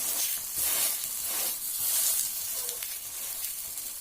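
A multi grain dosa sizzles steadily on a hot pan after being flipped, a close, continuous frying hiss that swells and eases in gentle waves, with no talking.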